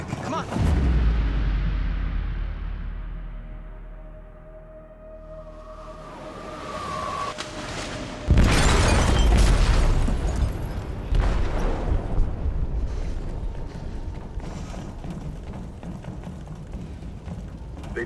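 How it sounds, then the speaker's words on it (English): Two heavy booming blasts tear through a ship's hold in Detroit: Become Human, the first at the start and a louder second midway, each followed by long rumbling decay with metallic debris and a faint tone between them. "They detonated an explosive in the hold."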